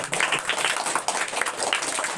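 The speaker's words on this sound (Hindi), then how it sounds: "इन लोगों के लिए जोरदार ताली मारिए, काजल के लिए और विक्रम के लिए" Students clap and applaud loudly at a school prize distribution in Jharkhand, a dense, continuous patter of many hands that carries right through.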